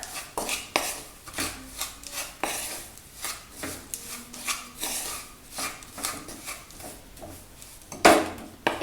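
Halkova being stirred with cardamom powder in a pan, heard as repeated scraping and rubbing strokes of a utensil against the pan in an uneven rhythm, close and fairly loud.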